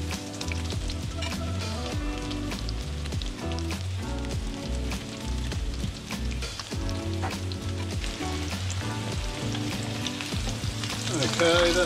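Cod burgers frying in a hot pan, a dense continuous crackle and sizzle that holds steady and close throughout, with occasional sharper pops and no voices.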